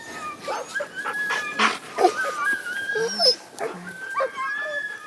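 Sled dogs whimper and whine outdoors in spring snow, with high yips and wavering cries from several animals, close by and overlapping irregularly.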